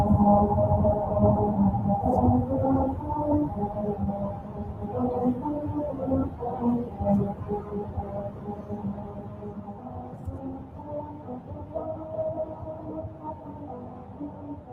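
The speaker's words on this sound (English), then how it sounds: "That was the musical road of Lancaster, California, and as you may have heard, it's a little bit out of tune." Tires rolling over the grooved musical road in Lancaster, California, a desert road that is out of tune, produce a droning, wavering melody of sustained tones over low road rumble that slowly fades as the car moves on.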